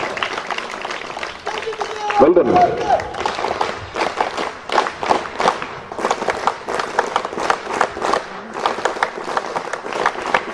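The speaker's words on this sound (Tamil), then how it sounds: "ஒரு பெரிய கைத்தட்டல் கொடுக்கலாம்." Audience clapping at a college Independence Day celebration, a dense stretch of applause building and continuing across the whole stretch, with a voice speaking briefly over it near the start.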